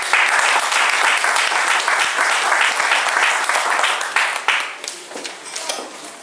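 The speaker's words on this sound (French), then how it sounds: "Merci d'applaudir." Sustained audience applause fills a conference hall at an African sovereignty debate, a dense, steady wash of many hands clapping that thins out and fades toward the end.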